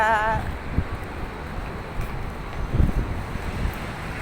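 Outdoor wind buffets the microphone in a steady, loud rumble with gusts swelling and easing throughout, and no voices on top.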